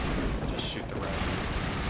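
Rapid gunfire in Mass Effect rattles continuously in dense bursts of shots, loud and close, with a short break mid-stream before the firing resumes.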